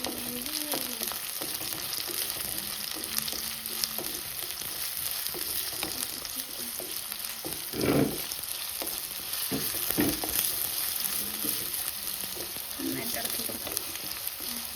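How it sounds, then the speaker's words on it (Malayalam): Onions and two green chillies sizzle steadily in a hot pan on a home stove, with scraping stirs and occasional clatters of the spoon against the pan. "നല്ലപോലെ ഇളക്കി കൊടുക്കാം കേട്ടോ. ഇതിൻ്റെ അകത്തേക്ക് നമുക്ക് ഉള്ളിയും കൂടെ ഇടാം."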